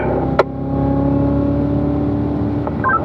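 Car driving on the Spring Mountain racetrack, its engine a steady, close hum with one sharp click early on and a brief faint squeal near the end.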